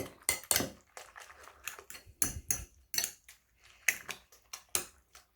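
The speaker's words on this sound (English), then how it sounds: "Now mix the eggs with the cheese." A utensil beats eggs and cheddar cheese together in a bowl, producing quick irregular clinks and scrapes against the dish, close and crisp, with no talk.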